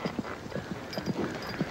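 Horse hooves clip-clop at a quick, even rhythm, the sound fairly faint and muffled as if heard from a short distance, with no voices over it.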